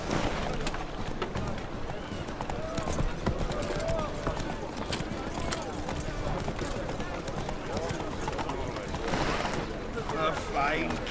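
Horse hooves clip-clopping in The Witcher 3: Wild Hunt video game, a steady rhythmic trot heard close under ambient game noise, with voices talking over parts of it.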